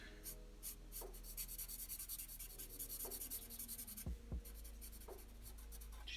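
Pencil scratching and rubbing steadily across paper while shading a drawing of a Stand character, close and continuous with short strokes, alone with no talk.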